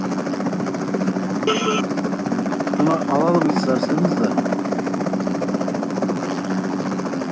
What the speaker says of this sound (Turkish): Karşıda da bir helikopter var.